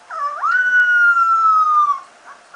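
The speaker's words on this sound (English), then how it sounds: "This puppy." A puppy gives one drawn-out, rising-then-falling howl that starts with a short whimpering yip, close and clear with no other sounds.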